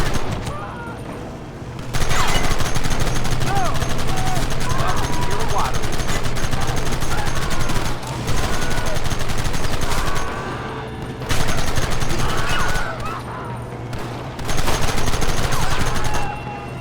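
Rapid bursts of gunfire in the Western video game Red Dead Redemption, loud and dense volleys broken by short pauses, with game voices shouting orders over the shooting.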